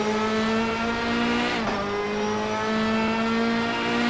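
Race car engine in Assetto Corsa on the Nordschleife heard from outside, a loud steady high-revving harmonic whine echoing off trackside walls, with a brief gear-change dip midway before the drone resumes.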